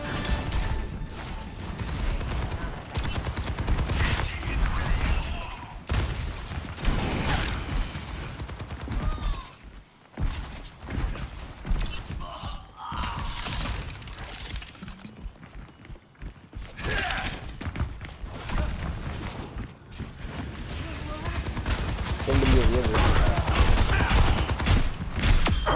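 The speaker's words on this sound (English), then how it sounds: "Turret in position." Dense, loud bursts of rapid turret fire and gunshots in Overwatch 2 multiplayer combat, nearly continuous across the stretch with brief lulls, mixed with mechanical clanks and game effects.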